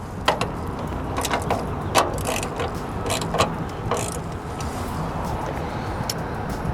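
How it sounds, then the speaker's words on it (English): A tool tightens a security bolt on the tailgate lock of a 2007–2013 Toyota Tundra, with a string of close ratcheting clicks spaced over several seconds above a low background hum. "get the security bolt, put it through the one location, and then tighten it down."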